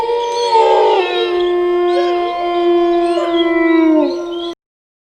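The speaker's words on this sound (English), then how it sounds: "The wolf howls. Yes, the sound of wolf is howl." A wolf gives one long, clear, wavering howl that rises, bends and slides in pitch for about four seconds, heard alone and up close before cutting off.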